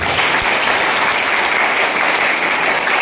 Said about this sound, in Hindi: तो ताली बजाओ उसके लिए।